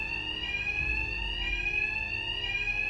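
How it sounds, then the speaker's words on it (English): A fire alarm rings inside the Batman Arkham Knight video game, a steady, piercing electronic tone that holds without a break. It sounds moderately loud and carries no speech. "My attacks will be covered by the noise of the alarm."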